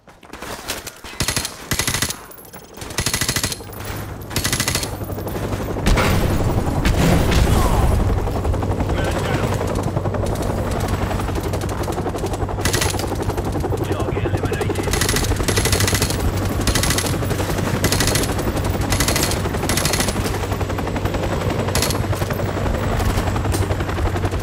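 Sustained machine-gun fire and scattered shots in Call of Duty Modern Warfare Remastered, loud and continuous over a steady helicopter rotor drone, with a few sharp bursts near the start.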